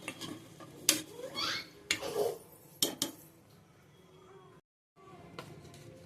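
A spoon stirs mutton paya curry in a metal pot after water is added, giving uneven clinks and scraping knocks against the pot, close and moderately loud, with a short pause before the stirring resumes.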